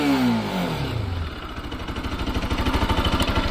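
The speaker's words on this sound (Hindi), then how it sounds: "ये था इसका ओवरऑल एग्जॉस्ट साउंड।" A Bajaj Pulsar RS200 motorcycle's exhaust is heard up close, with the engine revving and then settling into a steady, pulsing, throbbing idle burble.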